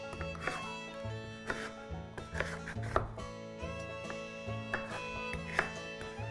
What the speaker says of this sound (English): just go ahead and chop it into pieces that are about 1/2 inch thick